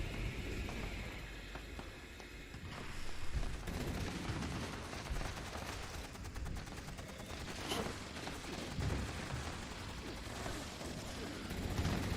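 A Gatling laser fires in Fallout 76, a long dense stream of rapid crackling energy bursts that runs nearly unbroken, loud and close, with mechanical whirring beneath.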